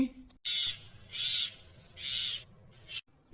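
A crow squawks in three loud, harsh caws close by, each lasting about half a second, separated by brief pauses, with a short fourth call at the end.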